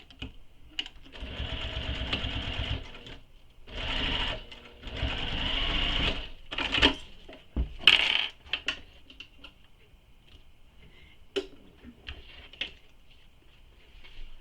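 A sewing machine stitches the zipper seam of a circular bag in bursts, with whirring runs separated by pauses and light handling clicks, close and moderately loud with no talking.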